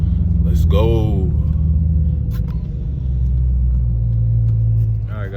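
A car with its catalytic converters removed idles with a low, steady exhaust rumble as it pulls onto a dyno at a custom shop, with people talking over it.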